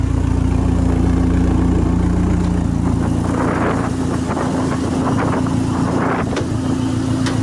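A Dodge Neon SRT-4 engine with a Mopar exhaust idles with a steady low rumble, with some handling noises partway through and no speech.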